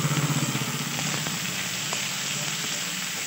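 Tomatoes go into a frying pan of vegetables for soybean noodles and are stirred, giving a steady close sizzle with a low hum at the start and a few faint scrapes.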